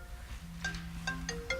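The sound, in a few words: mobile phone ringtone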